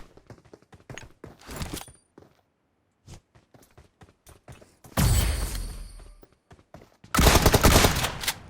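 Gunfire in the mobile battle royale game PUBG Mobile: scattered single shots and short clicks early on, then two long, loud, sustained automatic bursts close by.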